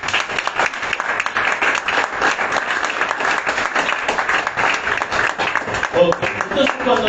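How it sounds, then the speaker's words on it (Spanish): Church congregation breaks into applause, a full burst of clapping from many hands, with a voice briefly audible near the end. "Dale un aplauso a Dios."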